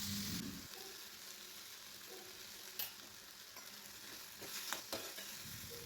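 Tomatoes, garlic and onion sautéing in a pan for a spicy garlic chutney, with a steady soft sizzle and a few stirring scrapes and clinks of a spoon against the pan. No one speaks.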